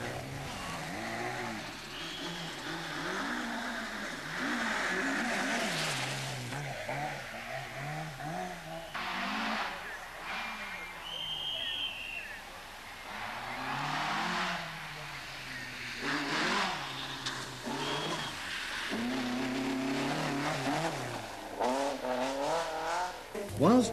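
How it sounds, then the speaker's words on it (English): Rally cars of the 1984 Lombard RAC Rally roar through woodland on their way to a tarmac stage. Engines rev up and fall away as the cars pass one after another, close and distant in turn. "the cars roar through the woods en route to another tarmac stage"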